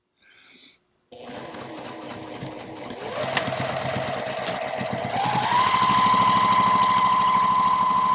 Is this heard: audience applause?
no